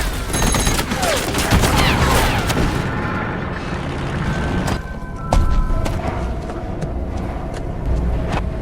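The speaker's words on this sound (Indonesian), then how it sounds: "Bruno bersama rombongan berhasil mengejar Korpi dan langsung menembakinya." Dense bursts of gunfire crackle over a loud, chaotic battle din, with sharp cracks scattered throughout and heavy rumbling underneath.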